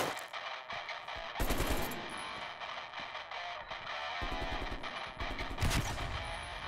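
Rapid automatic gunfire in a video game as objects are shot at: dense machine-gun bursts, several loud volleys in close succession over a steady background.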